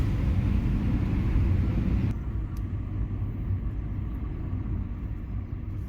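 A red state transport bus rolls along a road near Devgad, heard from inside as a steady engine rumble and road roar that eases slightly partway through, with no voices.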